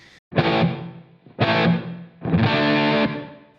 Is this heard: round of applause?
no